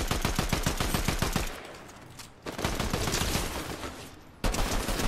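Fast automatic fire from a favored gun in the battle royale shooter Zula, tight rapid bursts of loud close shots separated by short pauses and echoing tails.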